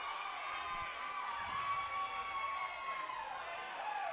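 Spectators cheering at the Burn Boot Camp Athlete Games 2023 fitness competition, a faint, distant mass of shouting and whooping that swells and fades, with indistinct voices mixed in.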